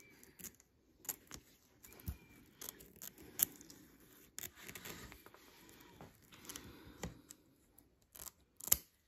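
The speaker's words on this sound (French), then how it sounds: "On va découper à ras du mini zigzag et on remettra à la machine pour finir la broderie." Scissors snip away excess organza close to a mini zigzag stitch around a 3D embroidery motif, giving a series of faint, irregular clicks and crisp cuts spread through a quiet room.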